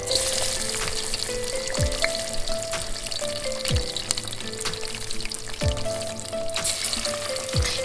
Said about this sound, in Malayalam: എണ്ണ ഒന്ന് ചൂടാകുമ്പോഴത്തേക്കിനും ഈ ബോൾസ് അതിലേക്ക് ഇട്ടിട്ട് നമുക്കൊന്ന് ഫ്രൈ ചെയ്തെടുക്കാം.